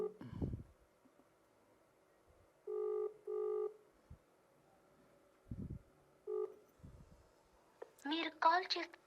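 A quiet phone ringback tone sounds in two pulses, pauses, then sounds again, with brief voices at the start and end.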